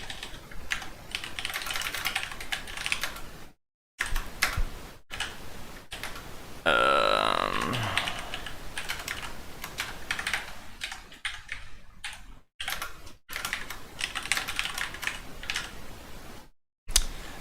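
Steady close-up clatter of computer keyboard keys in quick irregular runs, broken by brief pauses, with no one speaking.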